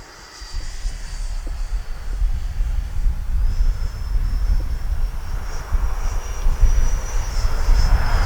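An FMS F-86 80mm Sabre RC jet makes an opposite-direction pass, its ducted-fan whine and roar rising steadily and staying loud as it sweeps by at about half throttle, with a thin high tone above the wind noise.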